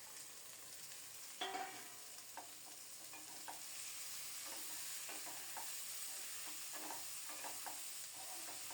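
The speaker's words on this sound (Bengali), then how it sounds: "ভালোভাবে নেড়ে চেড়ে ঢেকে রেখে খুব সুন্দর মতো ভাজা করে নেব" Potatoes and ash gourd with turmeric stir-fried in a pan of oil: a steady soft sizzle runs throughout while a spatula scrapes and taps the pan at irregular intervals, close and fairly quiet, with no talking.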